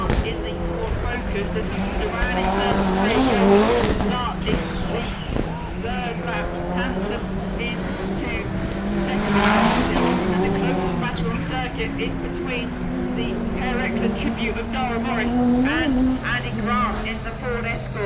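Rally cars, including a Ford Focus and a Renault 5, race at Lydden Hill through a loose section and over a tabletop jump, engines droning continuously with rising passes throughout, under steady commentary.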